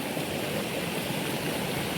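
A shallow stream on the trail to Waghdhondi waterfall at the foot of Kalsubai, a steady close rush of flowing water without pause.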